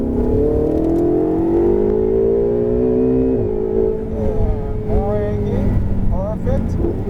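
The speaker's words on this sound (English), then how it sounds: "building that speed. And accelerating." A Ferrari 488 GTB accelerates hard on a track, its engine note rising steadily and loud through the gears with brief shift breaks, while a driver talks over it.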